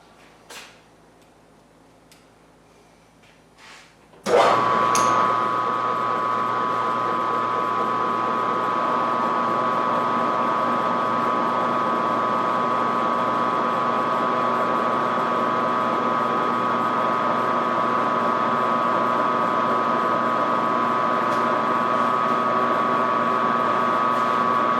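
A bench grinder fitted with a deburring wheel adapter spins up abruptly from near silence, then runs at a loud, steady pitch with a constant mechanical whine and no talk over it.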